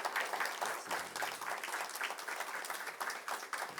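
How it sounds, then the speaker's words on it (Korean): Applause from a church congregation at a scholarship presentation, Saebit Church, a steady patter of clapping at moderate distance with faint voices underneath, lasting throughout. "박수."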